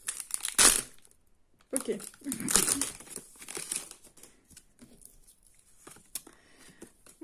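A Pokémon booster pack wrapper crinkles and rustles loudly in bursts as hands struggle to tear it open, with a short spoken word in the middle.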